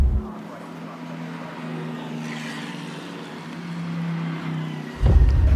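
GT race cars at the Bathurst 12 Hour drone steadily at a distance, the engine note rising and falling, before a louder car roars in close near the end.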